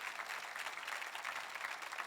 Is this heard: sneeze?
no